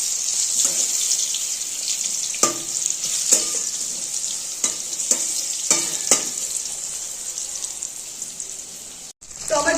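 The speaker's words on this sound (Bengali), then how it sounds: "বেগুনটা একটু হালকা লাল করে ভেজে নেব" Eggplant slices frying in a wok to light browning, a steady close hiss of hot oil broken by several sharp clicks and scrapes of stirring, with no talk.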